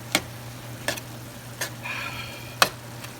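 Larb chicken cooking in a pan, a steady low sizzle of frying meat broken by a few sharp clicks of a utensil stirring against the pan.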